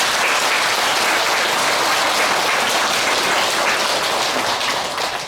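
A loud, dense burst of audience applause at a Buddhist Dharma service, steady clapping filling the room for about five seconds with no voices over it.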